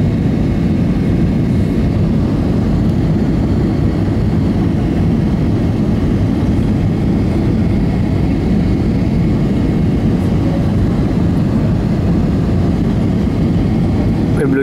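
Steady low-frequency cabin roar inside an Airphil Express Airbus A320 on landing approach to Cagayan de Oro Lumbia Airport, a constant engine and airflow drone that stays loud throughout, with people talking faintly over it.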